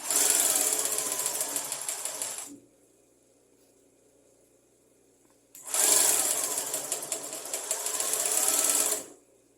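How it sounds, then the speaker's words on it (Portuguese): A sewing machine stitches fabric in two steady buzzing runs of a few seconds each, with a quiet pause between them, heard close and loud with no talk. "se você parar na máquina e quiser arrumar, é bom vocês afundarem a agulha lá"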